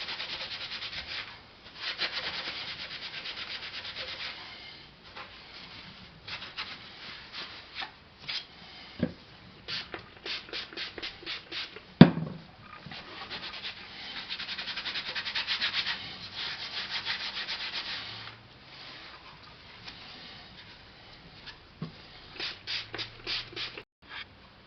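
A .22 Savage Rascal rifle being scrubbed and wiped to degrease it, with close, steady rubbing strokes in repeated bursts, a few brief pauses and an occasional knock.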